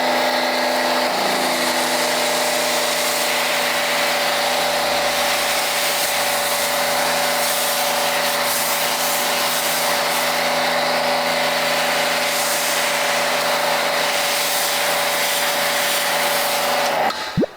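Pressure washer driving a foam cannon, run up to full pressure of about 1,800 PSI, a loud, steady motor whine with a broadband spray hiss that holds unbroken and close for the whole stretch.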